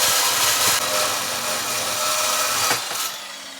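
A power tool cuts through steel square hitch receiver stock, producing a loud, harsh continuous grinding hiss that dips briefly and then tapers off near the end.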